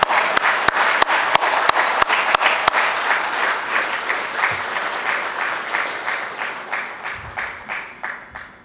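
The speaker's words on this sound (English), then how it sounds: "A big round of applause." Steady audience applause at an annual scientific program of a poultry veterinarians' institution, loud and dense with sharp individual claps early on, gradually thinning and softening toward the end.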